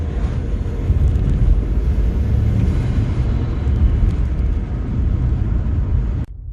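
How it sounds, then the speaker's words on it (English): A BMW 335d twin-turbo diesel fitted with a REMAP induction kit, a loud steady engine drone and road rumble from inside the moving car, cutting off abruptly near the end. "It's also got a REMAP induction kit, which you can hear every time you let go of the throttle."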